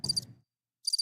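Crickets chirp in two short bursts of rapid high trills separated by a silent gap, with a faint low rumble fading under the first burst.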